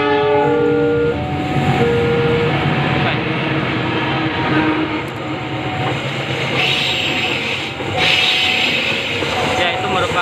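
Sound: Argo Bromo Anggrek train passing, Surabaya Pasar Turi to Gambir

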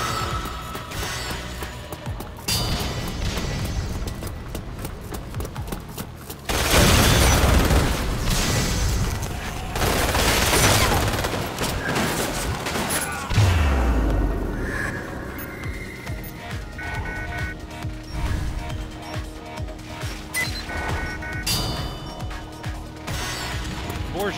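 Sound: grenade explosions and gunfire in video game Resident Evil Umbrella Corps

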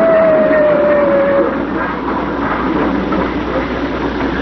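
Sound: train passing by with changing pitch

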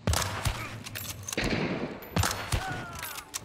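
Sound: gunshot in video game Hunt: Showdown

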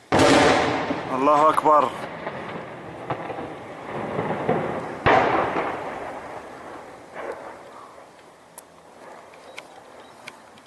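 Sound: heavy shelling explosions on Maarat al-Numan

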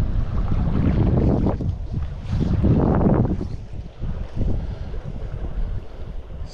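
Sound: wind blowing while fly fishing

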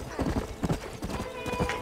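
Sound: horse hooves clip-clopping and neighing in Red Dead Redemption video game

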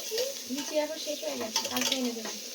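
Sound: frying shrimp and puffed-rice ghonto ingredients in a pan

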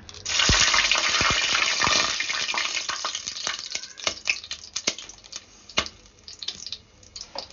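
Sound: whole spices frying in hot oil

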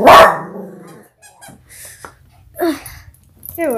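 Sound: dog barking

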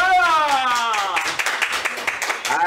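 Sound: audience applause

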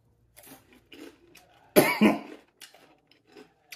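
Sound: coughing

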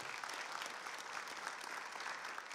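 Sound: church congregation applause

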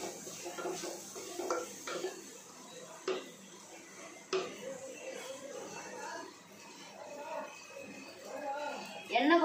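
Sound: stirring garlic curry in a pot

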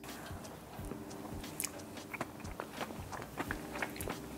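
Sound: eating chocolate cream cheese frosting

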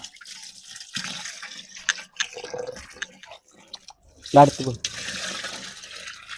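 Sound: pouring water into mixture

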